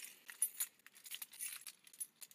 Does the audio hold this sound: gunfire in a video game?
no